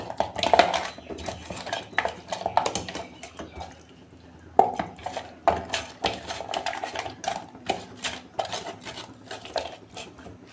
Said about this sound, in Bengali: কড়া বসিয়েছি, তেল দিচ্ছি।